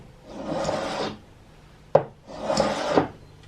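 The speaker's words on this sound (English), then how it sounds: "I forgot that I have a Stanley number 82 scraper." Two long rasping strokes of a Stanley No. 82 hand scraper across wood, close by, separated by a sharp knock.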